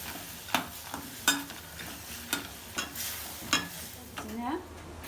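Lemon rice scraped and stirred in a pan over heat, with a soft sizzle and a series of regular spoon scrapes against the metal, close and moderately loud.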